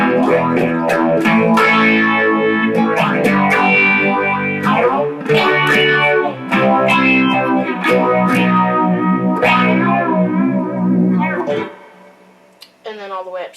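Synth-like tones run through a Moog Moogerfooger MF-103 12-stage phaser set to its slowest 1 Hz rate, with a sweeping whoosh over a busy, distorted musical phrase that plays loud and continuous before fading near the end.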